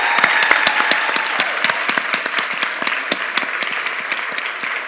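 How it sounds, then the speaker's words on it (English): An audience applauds presenters at a Three Minute Thesis event: a dense, steady burst of clapping from a crowd, loud and close, with individual sharp claps standing out throughout. "Can we have another round of applause for our amazing presenters today?"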